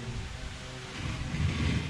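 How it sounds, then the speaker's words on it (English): Steady rain in a garden on O'ahu, Hawaii hisses as a dense, even wash of noise with a low rumble underneath, continuous throughout. "It's raining."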